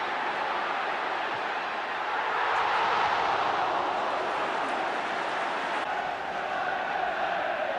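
Dense, steady roar of a large football crowd at the 1976-77 League Cup final second replay between Everton and Aston Villa, swelling slightly midway and continuing without a break.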